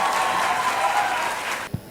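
Steady applause from a large crowd at a school event fills the room, then stops abruptly, followed by a single dull thump.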